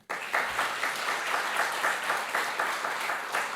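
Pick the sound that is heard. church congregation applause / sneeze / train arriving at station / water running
church congregation applause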